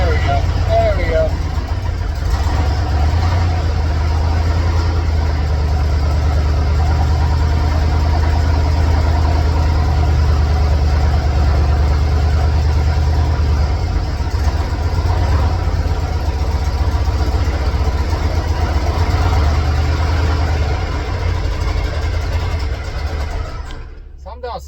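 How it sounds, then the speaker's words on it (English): A loud, deep 460 big block truck engine idles steadily and close up, a continuous low rumble that holds its pace throughout and eases slightly at the very end. "we're gonna start it again, but I'm gonna try and get it warm and hopefully it'll stay idling"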